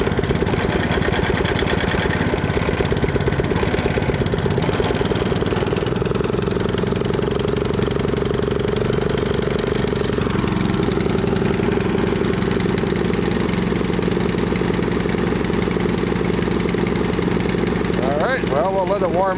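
A small pull-started gasoline engine, with carburetor cleaner mixed into its fuel, runs steadily at a fast idle throughout, a constant close mechanical drone that holds level without stopping.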